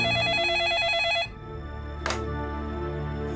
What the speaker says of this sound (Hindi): फोन क्यों नहीं उठा रहे हो तुम?